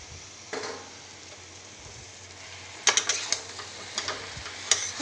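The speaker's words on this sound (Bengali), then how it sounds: "সবজিটাকে ভালো করে কষবো" Fried potato, pointed gourd and soybean being sautéed together in a pan, heard as faint stirring with a soft sizzle, then a few sharper metallic scrapes and clicks toward the end.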